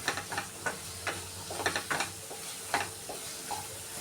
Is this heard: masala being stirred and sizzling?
yes